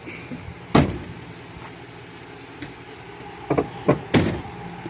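Hood of a 2008 GMC Sierra 4x4 pickup shut with a loud metallic slam, followed by several lighter clunks and a final thud, close by with no talk.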